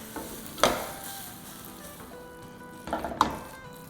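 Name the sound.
stirring taco filling in a pan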